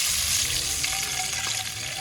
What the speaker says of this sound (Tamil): எண்ணெயில் தண்ணி ஊற்றுறாங்க.